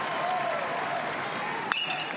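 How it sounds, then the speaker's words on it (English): A baseball crowd at an NCAA Super Regional game cheers and applauds, a steady, distant roar of clapping and voices, with a sharp click near the end. "City crowd feeling it"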